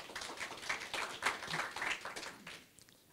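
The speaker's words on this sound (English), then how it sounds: "Round of applause." Audience round of applause for ThoughtWorks at a Melbourne Java and JVM users group meetup, a steady patter of clapping for about two and a half seconds that thins out and fades at the end.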